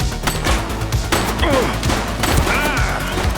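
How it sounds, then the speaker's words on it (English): Rapid bursts of gunfire in The Precinct police game, loud sharp cracks in quick succession mixed with crashing impacts and brief shouting. "He's shooting!"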